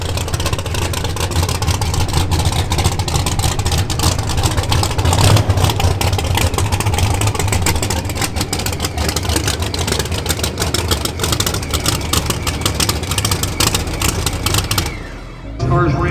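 Race cars at a 2022 Street Car Takeover event run loud and continuous, a dense steady engine roar with rising revs throughout and a brief dip near the end.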